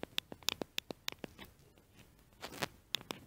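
Light rain falls at Rosenbach railway station, heard from under a roof as scattered sharp, close drips and taps over a soft, steady patter.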